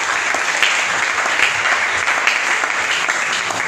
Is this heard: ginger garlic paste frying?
no